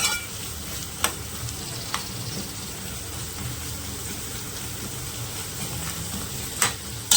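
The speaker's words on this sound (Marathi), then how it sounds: "थोडासा कांदा असा परतून घेतल्यावर" Onion sautéing in a pan gives a steady, moderate sizzle, with a few sharp clicks of a utensil scraping the pan and no talk.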